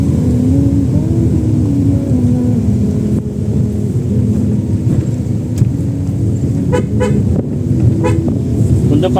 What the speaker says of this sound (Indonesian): Untuk kondisi blind spot seperti ini, kita bisa ngasih klakson